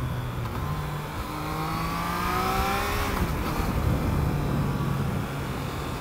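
A 2021 Triumph Trident three-cylinder motorcycle engine revs up through rising pitch, then settles back to a steady drone, sounding fairly loud and continuous throughout.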